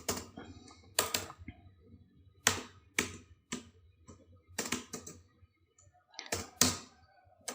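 Computer keyboard keys are tapped in short bursts while entering figures into an Excel spreadsheet, with crisp close clicks separated by brief pauses.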